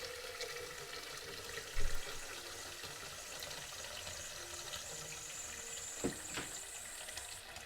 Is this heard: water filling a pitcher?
yes